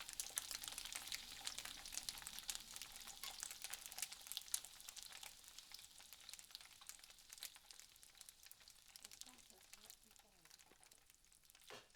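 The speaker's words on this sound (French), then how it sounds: "La première étape consiste à faire cuire les saucisses de tous les côtés." Sausages fry in a saucepan with a continuous, crackling sizzle and fine spattering pops, steady and fairly quiet, close up and with no talking.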